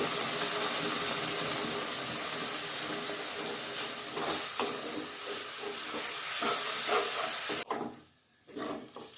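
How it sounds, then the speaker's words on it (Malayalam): Boiling water poured into hot beetroot upma in a pan, giving a loud, steady steaming hiss and sizzle that runs for several seconds, with stirring clatter, before dropping away sharply near the end. "തിളച്ച വെള്ളം അതിലേക്ക് കുറേശ്ശെ നമുക്ക് ആവശ്യത്തിന് അനുസരിച്ച് ഒഴിച്ചു കൊടുത്ത് ഇളക്കാം"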